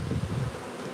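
Honeybees buzz around open hives during an inspection, a close, humming drone for a brief moment that fades partway through.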